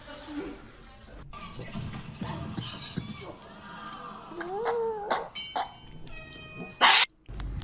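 Cat in a meme compilation meowing and caterwauling in rising, wavering yowls amid crowd noise and shouting, followed by a sharp burst and synthetic tones near the end.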